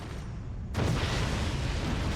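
Loud boom bursts out of quiet after a brief pause, with a dense rumbling wash of shotgun fire from the strategy game Forts trailing off behind it.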